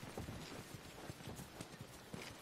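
Horse hooves clip-clop in The Last of Us video game, a steady run of quick, faint hoof strikes under a soft background bed.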